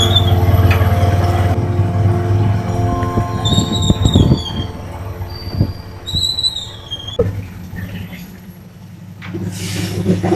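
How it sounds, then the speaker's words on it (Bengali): A train passes on a railway line through dense forest near Sreemangal, heavy rumbling with squealing wheels that rises and falls, heard close by with voices and birds in the background. "বলতে বলতেই আমরা ট্রেনও পেয়ে গেলাম।"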